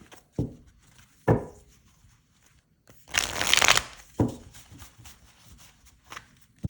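A Rose Petal tarot deck being shuffled by hand, giving short riffling bursts and soft card slaps spaced apart, with a longer dense shuffle in the middle, close and fairly quiet with no talking.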